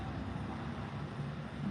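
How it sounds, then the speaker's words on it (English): A garbage truck drives somewhere nearby, heard as a faint, steady low rumble with a wash of broadband noise and no voices. "I'm trying to make sure that's the garbage truck and not the truck that them weird people are driving."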